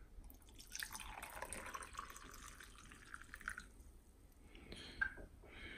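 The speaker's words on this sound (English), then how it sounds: "And then I'll just kind of like pour it in my glass." Sorrel tea pours into a glass with a soft, splashy trickle that rises and fades over several seconds, ending with a few faint drips and clinks.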